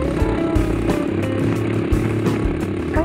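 A Chinese Super Cub clone motorcycle with a 110cc engine and a VM22 carburetor runs steadily while riding at around 40 km/h, its engine note droning continuously with slight rises and dips, close and fairly loud with no talk.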